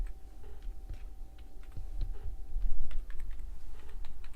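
Typing on a computer keyboard, steady rapid key clicks close by with light irregular rhythm and no voices.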